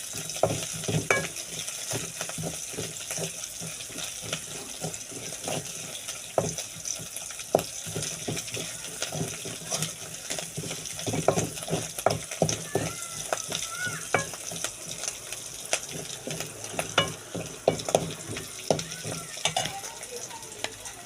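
Tomatoes and onions fry together for an octopus curry, giving a continuous crackling sizzle with frequent clattering stirs and scrapes against the pan, close by and without speech.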